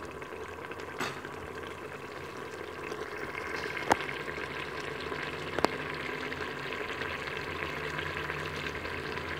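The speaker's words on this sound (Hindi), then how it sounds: "अब मैंने इसकी अच्छे तरीके से भुनाई कर लेनी है।" Chicken and tinda roasting in a pan give a steady, low sizzle and frying hiss, with a few faint utensil taps scattered through and no speech.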